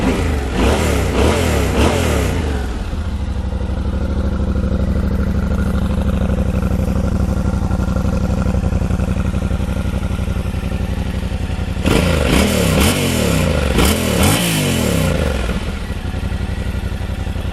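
A Yamaha Ténéré 700 motorcycle engine runs loud and close, revving in bursts at the start and again near the end, with a steady idle between.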